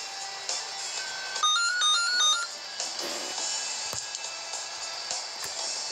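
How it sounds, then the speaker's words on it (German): A phone ringtone chimes during a Landwirtschafts-Simulator 12 farming game recording, a short melodic electronic tone sequence sounding for about a second over steady background hum with occasional clicks. "Ein Telefonanruf während einer Aufnahme passiert."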